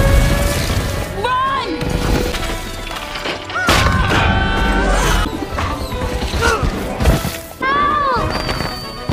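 Fireworks burst in a busy, chaotic scene, with crackling bangs, thuds and whistling streaks overlapping loud voices throughout.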